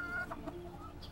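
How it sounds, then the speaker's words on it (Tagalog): A chicken clucks quietly in a few short, soft calls, faint and close with little else around it. "Kailangan ko sa tutukan tong manok natin eh."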